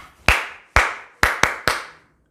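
Five sharp hand claps in a stretching class, well spaced with a short gap before the last two, each ringing briefly in a quiet room.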